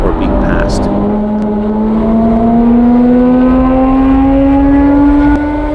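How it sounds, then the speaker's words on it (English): A race car engine roars close by on a race track, its pitch climbing steadily as it accelerates, with exhaust buzzing loudly the whole way. "there is only exhaust sound from the host car and also others that are nearby"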